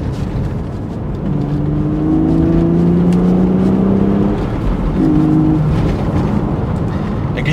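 BMW Z4 3.0i engine droning steadily while driving, a smooth sustained hum that rises slightly in pitch as the car pulls, with no talking over it.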